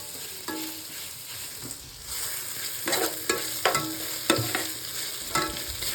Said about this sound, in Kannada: ಅದನ್ನು ಫ್ರೈ ಮಾಡ್ತಾ ಇದ್ದೀನಿ